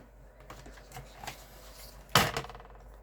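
Paper pieces for a handmade card are cut with a trimmer, giving a few soft scraping taps followed by one sharp, close slicing clack, with no talk.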